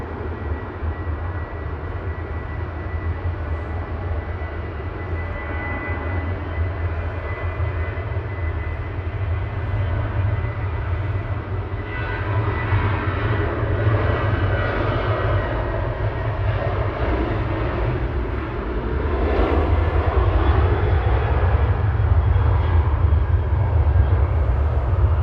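A TUI airliner bound for Geneva begins its takeoff roll at Manchester Airport, steady jet engine rumble swelling gradually louder and building toward the end, with no talking.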